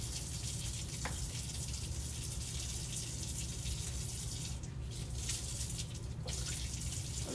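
Tap water runs steadily into a sink while glassware is rinsed, a constant broad rush of flow with a few faint clinks and splashes toward the end.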